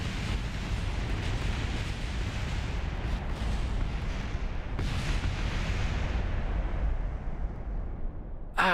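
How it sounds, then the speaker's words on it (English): A rocket in Kerbal Space Program explodes and keeps rumbling, a loud, continuous roaring blast with crackling bursts that holds for several seconds before a final sharp pop. "All our rockets keep blowing up."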